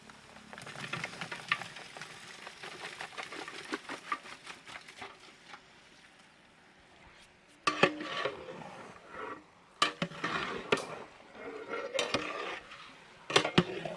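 Mutton is tipped into a pan of semi-gravy masala for a mutton varuval fry and stirred. It makes clattering scrapes and sharp metal clinks of a spoon against the pan, growing busier and louder toward the end.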